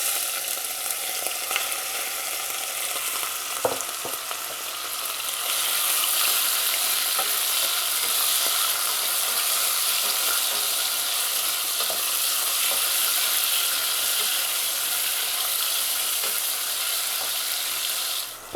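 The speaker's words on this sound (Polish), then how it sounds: "Gdy oliwa jest już rozgrzana, wkładamy pierś" Chicken breast frying in hot olive oil, a loud, even sizzle that swells after the first few seconds and holds steady close by, with a faint clack early on and no voices.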